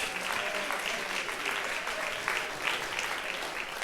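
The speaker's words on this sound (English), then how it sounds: "So give these people a big hand of applause." Crowd gives graduating seniors a sustained round of applause, a steady, even patter of many hands clapping at moderate distance with no break.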